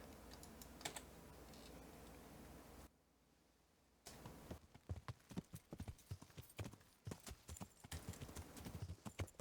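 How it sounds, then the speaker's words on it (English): Horse hooves clip-clop over ground during a ride in the medieval game Kingdom Come: Deliverance, a steady run of sharp, close hoofbeats that stops briefly before resuming in a fast, irregular patter. "Come on, horse, I know you can get up over that."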